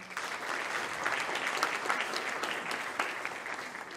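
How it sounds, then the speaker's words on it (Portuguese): An audience at a book launch for a Mozambican constitutional law book in Maputo gives sustained, even applause, a dense, steady patter of many hands for the whole few seconds. "Uma salva de palmas, por favor."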